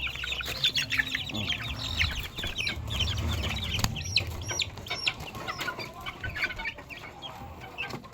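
Chickens cluck and chirp steadily in a brooder on a rainy afternoon, with many overlapping calls close by over a low background rumble.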